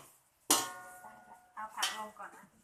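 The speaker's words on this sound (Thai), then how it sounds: "อันนี้ผัดเห็ดหอม" A metal utensil clanks against a pan while shiitake mushrooms are stir-fried, a sharp ringing knock followed by softer scraping and tapping strokes, close by.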